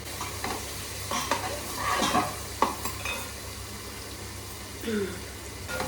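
Frying for a fish curry in a pan, with crackling sizzle and repeated scraping and stirring strokes, while a voice speaks over it in places.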